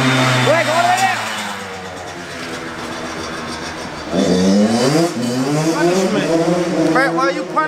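A two-stroke dirt bike rides up and down and revs, its buzzing engine note rising and falling in waves, loud and close, with another surge of revving in the second half; voices talk over it.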